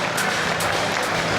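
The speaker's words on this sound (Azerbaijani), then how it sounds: "Sizlərin gürültülü alqışlarınızla bugünkü bu xoş günümüzü başlayaq inşallah." Wedding guests at a banquet hall clap together in a dense, continuous burst of applause that fills the room evenly for the short stretch.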